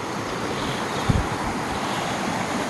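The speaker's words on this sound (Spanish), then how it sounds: "el río está crecido" Continuous broad rushing of a fast, swollen river, with one brief low thump partway through.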